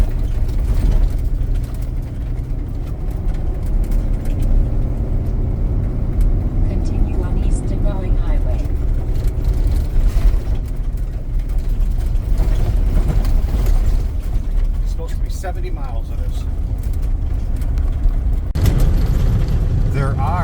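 A car rolls along the dirt surface of the Old Denali Highway, a steady low rumble of engine and gravel road noise running throughout at even loudness.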